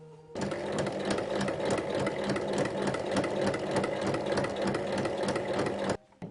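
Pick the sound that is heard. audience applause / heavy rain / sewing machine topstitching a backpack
sewing machine topstitching a backpack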